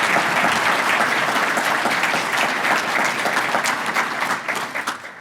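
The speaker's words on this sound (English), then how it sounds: "Let's give them a round of applause, please." Strong, full applause from the audience at a city State of the City address, thanking the hosting sponsor; dense clapping holds steady, then thins and fades toward the end.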